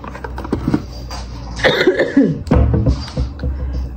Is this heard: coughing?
yes